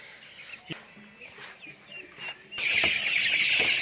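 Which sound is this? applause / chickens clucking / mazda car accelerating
chickens clucking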